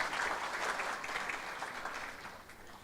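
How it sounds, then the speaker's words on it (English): Conference attendees at a digital transformation summit in Diani give a round of applause, full steady clapping from a sizable crowd that fades slightly over a few seconds. "One more round of applause for our chief guest."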